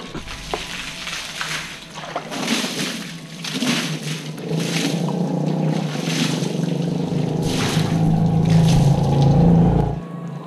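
Water sprays onto a Suzuki Burgman 125 scooter during washing, a loud continuous hissing rush that shifts and intensifies midway, steady until it cuts off near the end.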